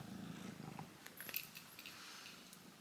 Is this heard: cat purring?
yes